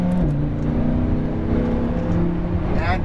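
A Lamborghini Huracan LP610-4 engine pulls hard at full throttle on a race track, a loud, close, rising drone with steady harmonics that climb toward the end as revs build.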